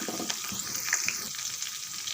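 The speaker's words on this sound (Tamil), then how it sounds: "இப்போ நல்லா பொரிய ஆரம்பிச்சிருது." Dried red chilli and curry leaves fry in hot oil with a pinch of asafoetida for a tomato pickle tempering, a close, continuous crackling sizzle with faint bubbling and no talk.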